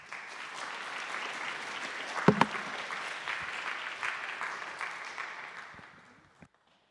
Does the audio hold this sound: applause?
yes